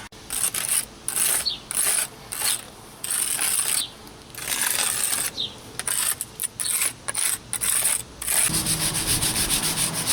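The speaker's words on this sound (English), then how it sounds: "You can use this point right here to dig rocks out of the crack." The pointed tip of a 6-in-1 tool scrapes and grinds in short repeated bursts as rocks are dug out of a crack in concrete, with small gritty clicks between strokes.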